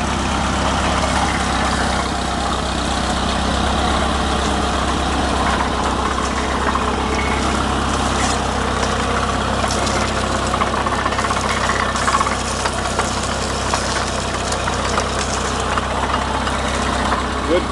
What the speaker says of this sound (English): Power in the mill with a 1951 Case VAI